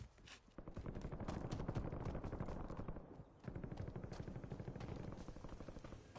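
A firearm fires in rapid bursts of sharp, close shots, most of the time a dense stream of reports with one brief pause partway through.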